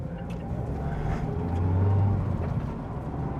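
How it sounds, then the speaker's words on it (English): A Mazda MX-5 ND2 engine during a heel-and-toe downshift: a steady close engine drone with a brief rev blip in the middle, then settling back, no talking. "Heel and toe downshift, nice and easy."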